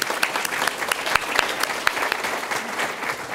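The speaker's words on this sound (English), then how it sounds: "Round of applause for" Audience applause at a community forum on Chicago's homicide crisis: a steady, fairly loud wash of many hands clapping, with sharper individual claps popping out, continuing for the whole stretch without speech.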